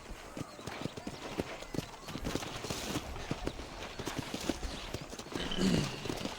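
Horse hooves clip-clop in the Red Dead Redemption PC video game, a steady rhythmic run of close hoofbeats over a soft background.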